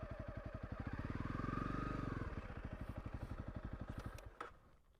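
A Honda CRF 300 Rally motorcycle engine thumps at close range in the Anysberg Nature Reserve, its rapid pulsing beat swelling briefly as it revs, then settling back to a loping idle.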